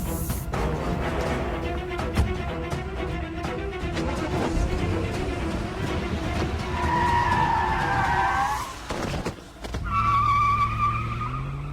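A car brakes hard and skids to a stop with a long, loud tyre squeal over engine noise, followed by a brief lull and a second burst of squealing tyres.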